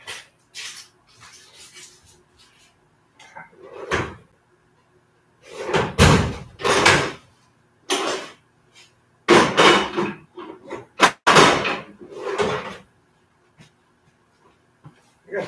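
Drawers and cupboard doors opening and closing in a room, with a run of loud, irregular thumps and slides, some sharp knocks clustered together, and quiet gaps between them.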